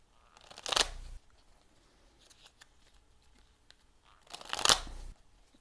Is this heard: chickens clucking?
no